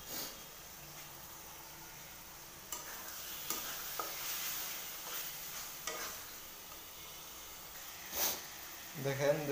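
Marinated tiger prawns stirred and fried in cooked-down spice paste for a bhuna, giving a steady soft sizzle with scraping stirs and occasional clanks of the spoon against the pan, and a voice speaks briefly near the end.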